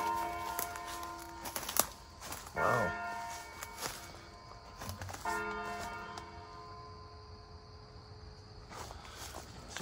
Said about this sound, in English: You can hear the church bell.